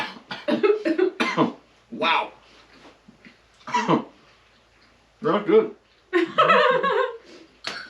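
Violent coughing fits and throat clearing after tasting six-month-old homemade mushroom catsup at a backwoods raccoon feast, several harsh bursts with short gaps, close and loud, with a person speaking briefly between them.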